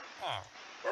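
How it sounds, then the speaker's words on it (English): Small dog yipping in the background indoors, two short quiet barks a moment apart, faint and somewhat distant. "That's just my dog in the background."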